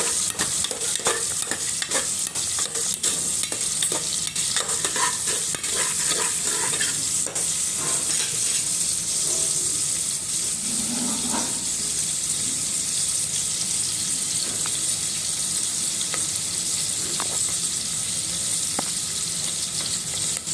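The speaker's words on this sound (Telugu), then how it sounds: "ఒక 2 మినిట్స్ ఫ్రై చేసుకోవాలండి." Cabbage and green chillies fry in a pan for cabbage pappu, giving a steady, close sizzle with repeated stirring scrapes throughout and no talking.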